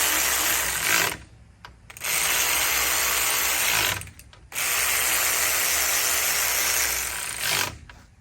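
A ratchet wrench tightens bolts on a 250 SHO outboard motor, sounding in three long bursts of rapid clicking with short pauses between them. The clicks are close and loud, and no one speaks.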